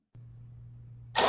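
A Kubota BX2360 compact tractor with its radiator cap off: a steady low drone runs for about a second before a sudden loud, broadband roar cuts in at the end.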